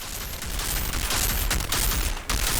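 A cryo turret in Outriders fires a dense, continuous stream of rapid shots, loud and close, with a brief dip near the end before the firing resumes.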